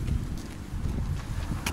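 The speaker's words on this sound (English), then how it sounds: "today's a little bit of a windy, kind of a chilly day" Steady low buffeting wind noise on a microphone outdoors on a chilly, windy day, a continuous rumble with slight gusts and no clear talk.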